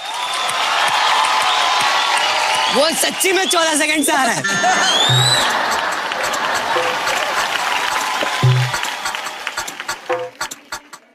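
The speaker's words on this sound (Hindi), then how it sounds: "एक बार जोरदार तालियां मारिए आदित्य के लिए" Studio audience applauding and cheering for Aditya on a comedy show stage, a loud sustained wash of clapping with whoops and buzzer-like accents, with people talking over it throughout.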